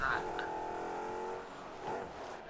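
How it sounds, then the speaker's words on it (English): A high-pitched, Formula 1-style car engine from the Rocket League video game holds a steady tone and then fades. A second rev follows, and quiet speech runs underneath. "Sounds like a Formula 1 car actually."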